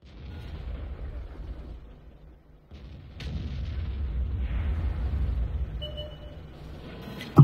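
Artillery firing in the tank battle game World of Tanks during a clan war, muffled low rumbling booms under a steady engine drone, with a sharp crack at the end.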